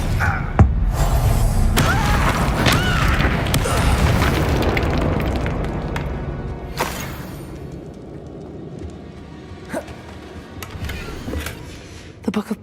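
Bombarda spell explosion in the video game Hogwarts Legacy, a loud low boom followed by rumbling debris and crackling that slowly fades into game ambience, with a few sharp pops near the end.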